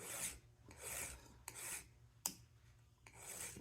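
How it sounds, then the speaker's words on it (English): A metal fitting is filed by hand in long rasping strokes, about five in steady rhythm, close and fairly quiet, with a couple of sharp clicks between strokes. "It's like putting pressure and sanding, you know, this filing."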